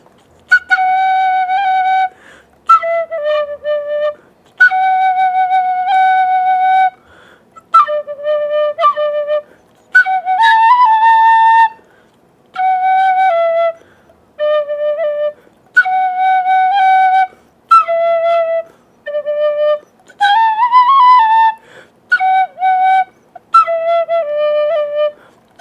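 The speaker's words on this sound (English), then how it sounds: "You want to give us a little tin whistle here?" A tin whistle plays a bright, lively tune in an Irish shop, clear melodic phrases with short breaths between them, close and loud with no talking.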